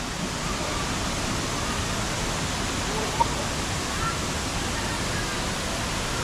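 Vera Falls pours in a steady, dense roar of falling water, constant and close with no breaks.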